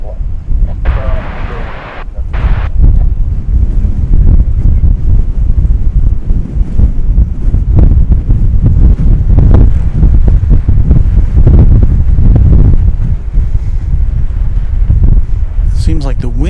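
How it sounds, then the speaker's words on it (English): Strong gusting wind buffets the microphone at an airport, a loud continuous roar and rumble for the whole stretch, with a brief gap early on. "Seems like the wind is gusted up just for the arrival of the king."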